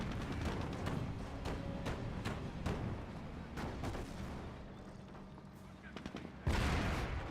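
Rapid gunfire and anti-tank gun hits in the Company of Heroes strategy game: repeated sharp shots in a busy, irregular battle rhythm, ending in a loud heavy blast, with a voice talking over much of it.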